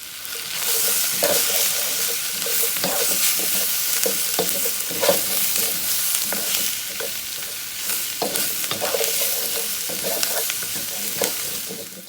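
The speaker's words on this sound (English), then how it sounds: "we want to go ahead and go in with our veggies next. Asparagus and the mushroom." Asparagus and mushrooms sizzle loudly in a hot pan for pad thai, a dense continuous crackle close up with frequent stirring scrapes and clinks throughout, no talking.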